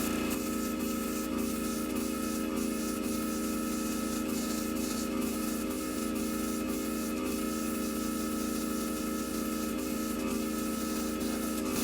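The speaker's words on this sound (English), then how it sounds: "Also note that I'm spraying perpendicular to the surface of the model." A steady, continuous hiss of spray paint on a 1/100 scale Estes Saturn V model rocket, unbroken for the whole stretch, close by and fairly loud, with no voices.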